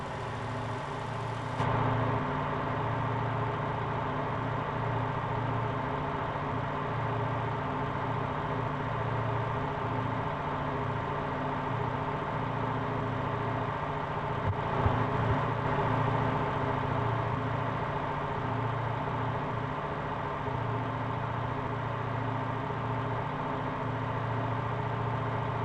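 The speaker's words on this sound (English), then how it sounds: "This engine is loud." A Vulcan truck idles in the Motor Town driving game, its engine a steady, loud, low droning rumble with a constant hum that runs unchanged for the whole stretch, with no talking over it.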